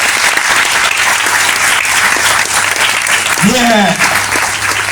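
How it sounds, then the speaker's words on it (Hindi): Schoolchildren at a CM Shri School event clap loudly and continuously, a thick, steady roar of applause throughout, with a voice briefly rising over it near the end. "ताली बजाओ जोरदार ताली।"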